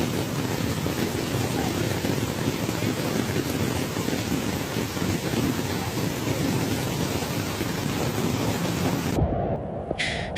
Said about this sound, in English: heavy rain fell suddenly in Zhengzhou